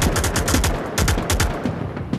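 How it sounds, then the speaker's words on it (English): Rapid bursts of automatic gunfire ring out during a co-op match of the VR shooter Onward, loud and close, in several quick volleys over about two seconds with no voices. "Are you shooting over my head?"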